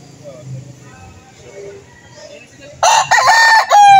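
A rooster crows loudly and close at a live chicken market in Lipa, Batangas, a sudden burst of harmonic crowing late in the clip that follows low background chatter and market bustle.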